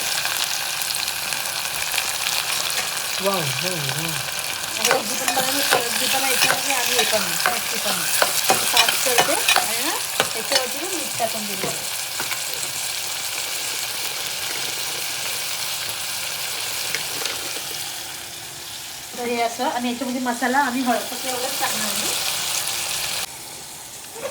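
Chili, onion, tomato and vegetables frying in a pan, a steady close sizzle with spatula stirring and scraping in bursts, the hiss continuing between stirs.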